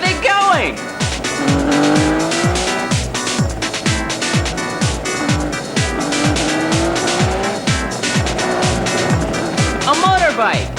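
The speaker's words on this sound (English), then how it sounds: "A motorbike!" Engines roar and tires squeal in a loud animated chase, with rapid repeated bursts and skids layered over a dense, busy mix while voices talk throughout.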